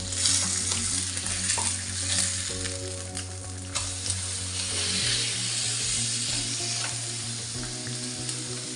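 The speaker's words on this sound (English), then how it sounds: "I'm gonna add a little bit more oil. And now it's time to flip over." Fish frying in hot oil on medium heat for a Goan fish curry, a loud continuous sizzle close by with a low steady hum under it and a few soft scrapes as the pieces are turned.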